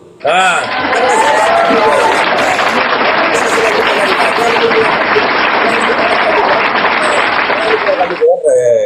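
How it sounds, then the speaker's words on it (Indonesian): Loud audience applause at a religious debate gathering, a dense continuous roar of clapping under a speaking voice that carries over it, cutting off abruptly near the end. "Tepuk tangan buat Abang Pontius Hulu"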